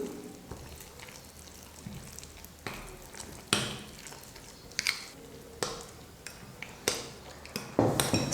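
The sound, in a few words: mixing sautéed potato and carrot with egg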